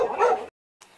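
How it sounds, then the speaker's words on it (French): A dog barks once, loud and close, followed by a brief quiet gap and a fainter trailing yelp. "les chiens aboient"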